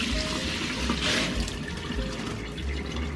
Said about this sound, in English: Nag-absorb na siya ng water. I-drain natin.